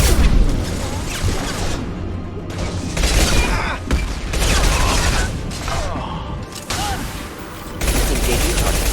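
Heavy gunfire rattles in Mass Effect Legendary Edition combat, loud bursts of shots and booms mixed with mechanical clatter and whooshes, with brief combat voice lines.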